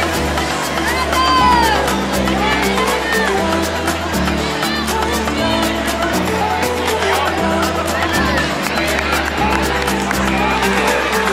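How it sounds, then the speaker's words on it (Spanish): A large crowd fills a stadium at a Seville charity derby football match with loud, sustained clapping and cheering, a dense roar that continues throughout. "Mira que aplaudan, Gabi."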